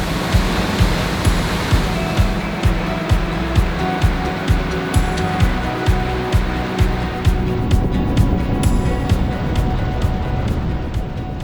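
A powerful waterfall rushes through a gorge chute with beautiful blue water in North Cascades National Park, a loud, steady broadband roar with no break, heard close up and with a faint rhythmic ticking underneath.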